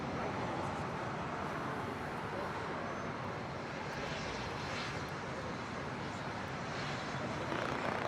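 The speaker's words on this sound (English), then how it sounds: "Embraer Phenom 300 coming in from Palm Springs." Embraer Phenom 300 business jet arriving at Los Angeles International, a steady broadband engine rush heard at moderate level throughout with no clear rise or fall.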